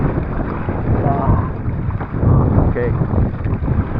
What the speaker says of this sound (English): So we're getting like gusts of 5 miles an hour plus on top of what we got now.